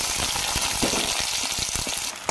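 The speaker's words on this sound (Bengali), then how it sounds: "ফোড়নগুলো দিয়ে বেশিক্ষণ ভাজার দরকার পড়বে না, ফোড়নটা দিয়েই সাথে সাথে পেঁয়াজটা দিয়ে দিতে হবে।" Whole cardamom, cinnamon and other spices with chopped onion fry in hot oil, a close crackling sizzle with scattered sharp pops and stirring scrapes.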